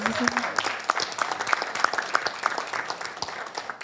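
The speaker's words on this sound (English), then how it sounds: "Give him another round of applause." A city council meeting audience applauds warmly, dense overlapping claps that hold steady for a few seconds before gradually thinning out.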